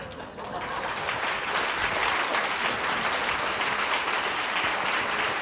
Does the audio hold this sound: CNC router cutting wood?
no